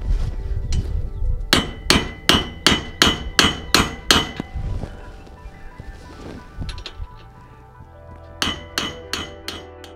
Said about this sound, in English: we're just going to hammer on it a little bit to try to get it started to stay into there